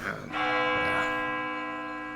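A church bell rings with one loud strike after a brief rustle, its rich tone sustaining and slowly fading over the next two seconds.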